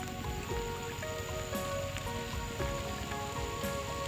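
Steady, dense patter of rain falling in rural Laos, loud and close, with a continuous wash of drops on surfaces and faint tonal hums beneath, without speech.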